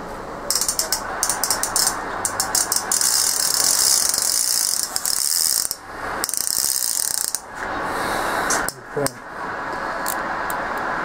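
A fishing reel's drag ratchet, set around 6 kg, clicks in a fast, continuous buzz while jigging for grouper, briefly pausing and restarting, close and loud.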